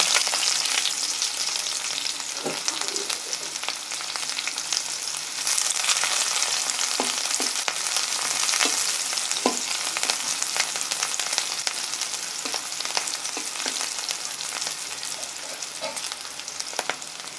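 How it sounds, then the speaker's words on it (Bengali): Chopped onions and green chillies fry steadily in oil with a dense, close hiss that never lets up, broken by occasional clicks and scrapes of stirring. "এখন আমরা কেটে রাখা পেঁয়াজ এবং কাঁচা লঙ্কা দিয়ে দিব"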